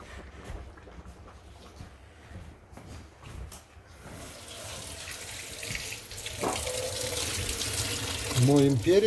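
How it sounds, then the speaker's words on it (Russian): Tap water runs into a sink while garden peppers are rinsed for Kyrgyz pilaf, a steady splashing stream that grows louder, with brief handling clatter and someone talking. "We wash the pepper."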